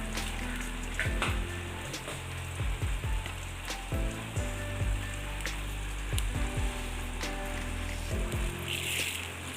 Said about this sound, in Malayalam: അല്പം ഉലുവ ചേർത്ത് കൊടുക്കാം